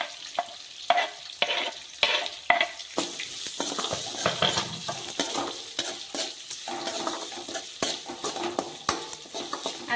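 Onions and curry leaves frying in a pan for a quick tomato curry, with busy close sizzling and crackling and frequent clattering scrapes of a stirring spoon, plus some bursts of splashing. No voices are heard.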